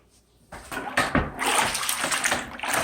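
Room walls being washed down with water before painting, starting quiet, then a loud close gushing and splashing rinse that runs on steadily to the end, with no speech.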